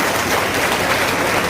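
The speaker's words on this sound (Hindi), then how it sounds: "तालियों से स्वागत है" A crowd at an Ambedkar Jayanti event held by the Bharatiya Bauddha Mahasabha bursts into brief, loud, dense applause that welcomes guests and fills the moment without any voices.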